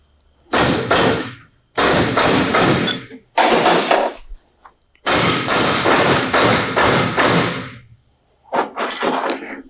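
Hammer blows driving a roll pin with a drift punch into a John Deere 40 or 90 Series corn head, loud metallic thuds in quick clusters of several strikes separated by short pauses.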